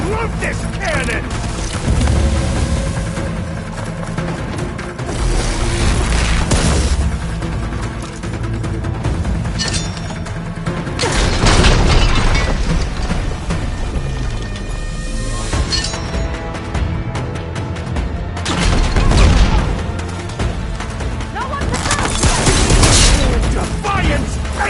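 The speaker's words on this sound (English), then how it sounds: "I love this cannon!" Cannon fire in a video game: loud, dense booms and crashing blasts recur every few seconds over a constant clamor of battle effects and music.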